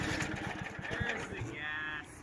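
A Sears Lil'Poppy lawn mower engine running out of gas, its rapid chugging pulses stuttering and fading to a stop near the end, with a person talking over it.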